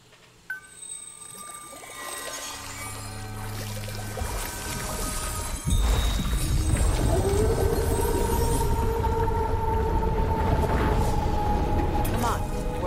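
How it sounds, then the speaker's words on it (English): Scepter dragged across a celestial bell in God of War Ragnarok: after a sharp strike, sustained ringing tones hum and layer over a low rumbling wash, growing fuller and louder as the resonance holds. "Try dragging the scepter across the bell a few times."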